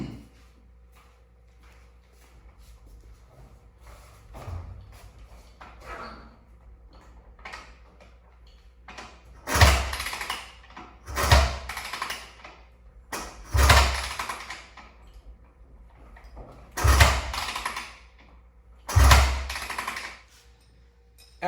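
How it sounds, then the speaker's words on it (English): A 2006 Honda CRF250 dirt bike kicked over five times with the kill switch held so the engine never fires, each kick a loud thumping stroke with a brief mechanical whirr, spaced a couple of seconds apart after quieter handling noises. "we are going to kick the bike 5 times while holding the kill switch so it doesn't start."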